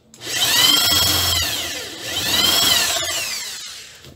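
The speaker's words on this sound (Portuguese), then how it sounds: "Com essa broca aqui, 1/2 polegada, e depois é só finalizar" A power drill with a 1/2 inch bit bores through pallet wood for a homemade garden planter, whining up in two loud sustained passes with a short dip in between.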